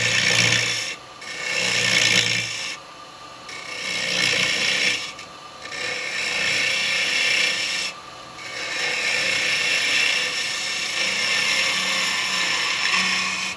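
A segmented wooden jar spins on a lathe while a carbide tool pull-cuts across stepped segments, giving a steady close scraping rasp that surges and breaks off in several passes with brief pauses between them.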